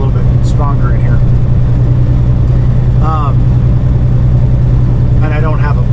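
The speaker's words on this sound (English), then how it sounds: "when I climb hills, the engine noise is a little bit stronger in here" Steady, loud engine drone inside a Toyota Tacoma pickup straining while climbing a hill, a constant low hum throughout with a voice speaking over it in places.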